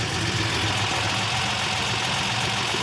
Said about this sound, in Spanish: Vos fijate el ruido que hace este auto.